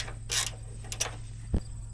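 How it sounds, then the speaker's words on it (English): Bolts being removed from a combine tailboard: a few brief metallic clicks and ratcheting rattles with a dull clunk near the end, heard close over a steady low hum. "4 bolts on each one, pop them out, put the bolts back in."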